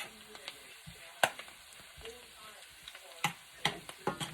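Mushrooms simmering in butter sauce in a pan, stirred with a spoon that clicks and scrapes against the pan several times over a quiet, soft bubbling sizzle.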